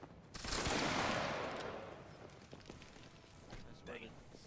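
A massed musket volley rings out in a Napoleonic Waterloo battle game, a loud rolling crackle of many shots blending into one roar that decays over a few seconds, with scattered later pops and a voice in the background.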